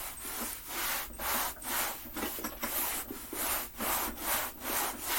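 A rag rubs back and forth across a lawn mower case while it is being cleaned, giving about ten steady, even swishing strokes close by, with no talking.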